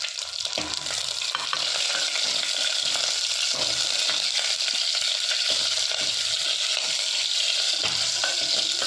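Green chillies and curry leaves fry in a pan with a constant crackling sizzle, broken by repeated scraping clicks of stirring, close and alone with no voices.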